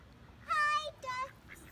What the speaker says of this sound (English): Look, they're coming over to us. Hi, ducks.